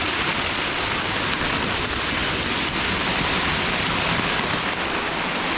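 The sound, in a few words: hail hammering down on a garage roof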